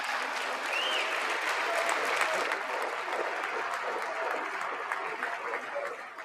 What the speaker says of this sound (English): what he said wasn't even that special for everybody to get up and clap